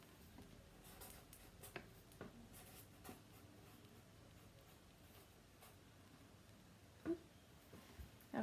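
Writing on a classroom board, very faint scratchy strokes and light taps in a quiet room, with a few sharper knocks near the end.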